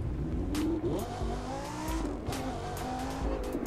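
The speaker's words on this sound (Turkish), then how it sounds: "Arabayı test etmeye başladık şu anda." A car driven in the racing game The Crew 2, engine droning and shifting pitch as it revs and accelerates, with short tire squeals, loud and continuous with no talk.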